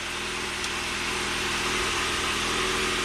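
A 1993 Saab 9000 CSE Turbo engine idles steadily up close, its hum holding a constant drone with a faint rise in pitch as the idle ramps up, no voices over it.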